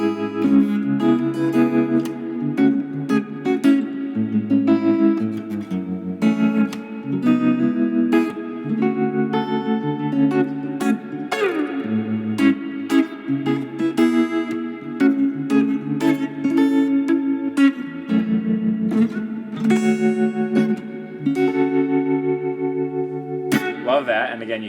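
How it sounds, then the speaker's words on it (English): An electric guitar plays through a Sonicake AmpCube practice amp with a pulsing, wavering tremolo effect, chords and notes throbbing rhythmically and loud for the whole stretch. "Ooh, a tremolo."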